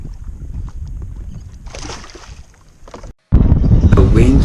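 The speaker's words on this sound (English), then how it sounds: "The wind picked up." Strong wind buffets the microphone on a small fishing boat out after cobia off Grandview Nature Preserve, Virginia, a steady low rumble that cuts out briefly and then returns as a loud roaring gust.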